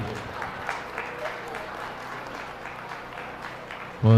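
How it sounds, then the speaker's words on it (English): Crowd applause at a beef cattle show ringing through an arena for bred-and-owned exhibitors, steady clapping for about four seconds with a sudden loud bump at the end. "let's have a round of applause for all of our bred and owned exhibitors"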